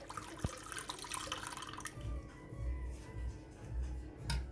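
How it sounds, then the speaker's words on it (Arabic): Hot water is poured into a container for homemade yogurt, a splashing rush for about two seconds that then fades to quieter trickles and low handling thumps, close by with no talking. "انزل بقى بمية سخنة واحاول ان انا اعادلهم ببعض"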